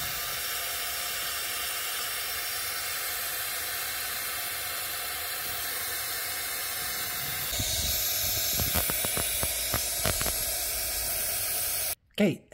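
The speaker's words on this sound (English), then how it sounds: "I tried putting pressure inside the rear airbags, but they couldn't hold any pressure" Air hissing steadily from a compressor line into leaking rear Airmatic air springs on a Mercedes, a continuous spray-like hiss that grows louder and rougher partway through with a few clicks, ending in a brief cutoff.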